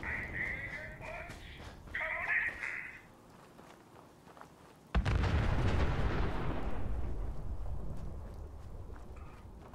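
Distant explosion in the video game Fallout 4: after quieter game ambience and a brief musical tone, a sudden deep boom bursts out and rolls on as a long rumbling wash that slowly fades.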